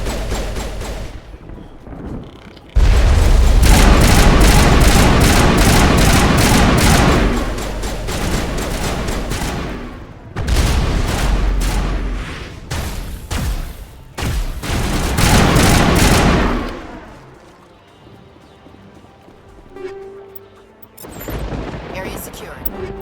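Gunfire in the video game Mass Effect, long loud bursts of rapid automatic fire broken by quieter gaps, with dense booming impacts and a distant background rumble.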